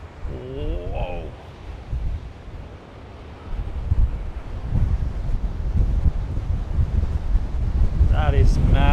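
Strong wind and large ocean swell at Penguin's Head, Culburra Beach: loud, rumbling gusts batter the microphone over a deep surf roar that builds through the clip. A voice speaks briefly at the start and again at the end.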